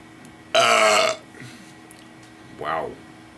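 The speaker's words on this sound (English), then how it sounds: "Even after the first little hiccup burp" A loud, close burp after sips of a very hoppy homebrewed IPA beer rumbles for about half a second, followed by a softer second burp a moment later.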